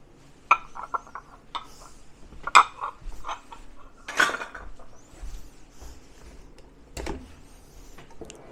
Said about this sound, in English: Just give that a little whisk in.